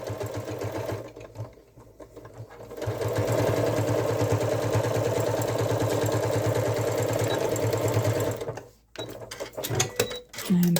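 A sewing machine stitches flannel stocking cuffs with a 3/8-inch seam, running in a loud, steady whir for several seconds. It then stops and is followed by a few clicks and brief restarts.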